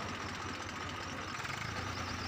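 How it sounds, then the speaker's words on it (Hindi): An old second-hand Swaraj tractor in working condition runs steadily at high revs, a dense, loud engine drone filling the short stretch with no talk. "अब ट्रैक्टर की रेस करके हम दिखा देते हैं आपको, कितनी कैसी आवाज़ निकलती है इसकी"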